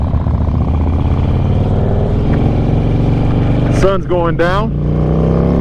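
An old Harley-Davidson motorcycle with new-school power runs steadily at a loud, constant engine drone throughout. Someone speaks briefly near the end over the engine.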